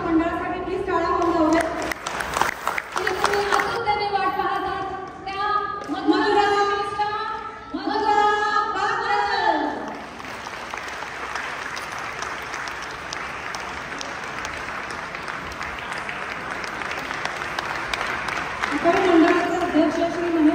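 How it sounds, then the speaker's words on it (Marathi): Enthusiastic audience applause for the Maharashtra Mandal at a Marathi cultural gathering in Dubai, a long wave of crowd clapping that swells and holds, with someone speaking over it near the start and the end. "आणि एकदा जोरदार महाराष्ट्र मंडळासाठी प्लीज टाळ्या वाजवा."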